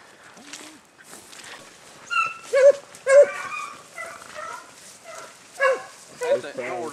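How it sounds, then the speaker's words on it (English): A northern-bred hunting dog yips and whimpers in a series of short, bursty bays at mid distance during a rabbit run, with louder cries clustered in the middle and end and people talking quietly underneath. "That's that northern dog of mine."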